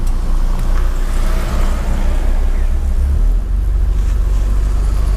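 Heavy, steady engine roar from inside a BMW 520i E34 fitted with a turbocharged 1JZ-GTE engine that has a boost leak, with a low rumble that surges and shifts around the boost cut, loud and continuous throughout.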